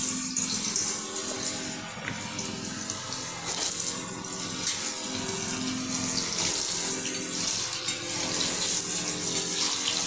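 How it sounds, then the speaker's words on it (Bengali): A steady, hissing sizzle of potatoes frying in hot oil, constant and close, with faint crackles throughout and no voices. "এখন আমি আলু কেটে রেখেছি, আলুটা ভেজে নেব।"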